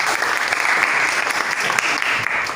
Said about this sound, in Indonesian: Tepuk tangan untuk Aura.